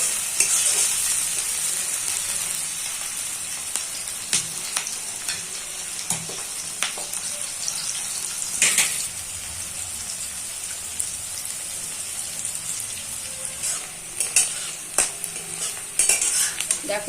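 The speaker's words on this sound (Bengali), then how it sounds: "এবার এই পেঁয়াজটা ভালো করে সুন্দর করে লাল লাল করে ভেজে নিতে হবে।" Onions frying in a pan for a mushroom kosha, with a steady close sizzle and scattered clinks and scrapes of stirring throughout, no talking.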